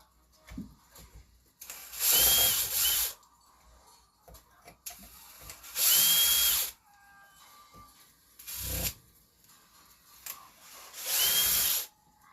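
Power drill backing screws out of a Traxxas Maxx RC car, four loud whirring bursts of a second or so each, separated by quieter pauses with faint handling clatter.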